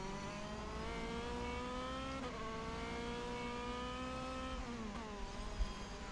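DTM touring race car at Hockenheim in a racing video game, engine note climbing steadily through a gear with two shifts, a loud continuous harmonic drone heard close and alone.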